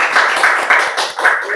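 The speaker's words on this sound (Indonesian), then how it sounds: "Tepuk tangan dong" An audience at an entrepreneurship talk claps in a brief, fairly rhythmic patter of close claps while a voice carries on over them.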